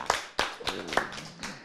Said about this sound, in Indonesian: Beliau ini adalah Ki Dr. Andes Marzuki, tepuk tangan.